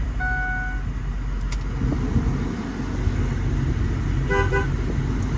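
Two bursts of a 2007 Isata 310 motorhome's horn, a short toot early and another near the end, over a steady idling engine rumble.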